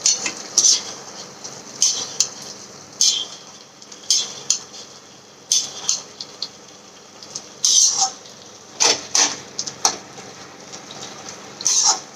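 Kashmiri red chilli powder stirred into mixed labra vegetables in a metal pan: a spoon repeatedly scrapes and clinks against the pan in irregular bursts, close and clear, over a faint low sizzle, with no talk.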